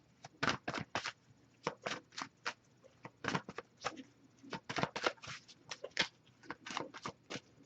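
A tarot card deck is shuffled in quick repeated bursts of crisp riffling and slapping, close and fairly quiet, with irregular rhythm and brief pauses.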